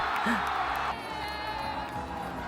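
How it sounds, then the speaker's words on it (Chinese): Football crowd at a FIFA World Cup match cheering after a goal, a broad roar of many voices with whoops and a shout up front, then settling into a sustained distant crowd din. "观众们在欢呼，球员们也抱在一起庆祝。"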